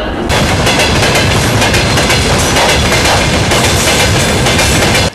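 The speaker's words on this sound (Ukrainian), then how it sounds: "Евакуаційний поїзд номер 201 з вилучення Херсон-Хмельницький прибуває на нашу лінію." An evacuation train from Kherson rolls into a railway station, a loud continuous rumble with wheel clatter and metallic squeal filling the whole stretch without pause.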